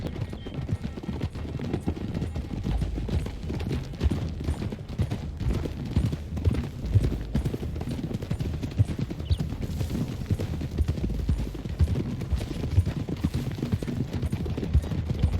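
Several horses' hooves clop steadily in a fast, uneven rhythm over a low rumble in the video game Red Dead Redemption 2, like riders moving together at a trot.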